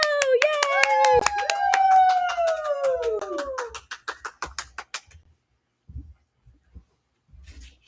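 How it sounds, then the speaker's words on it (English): A small party-show audience welcomes costumed hosts Princess Belle and Prince Adam with a long sliding cheer, then a run of quick, evenly spaced handclaps that thin out and stop. "So let's give them a big warm round of applause as they come host our show."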